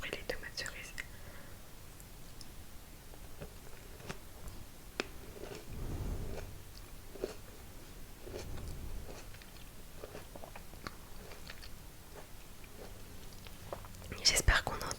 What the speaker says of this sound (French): Normalement ça fait des bons petits bruits les tomates cerises.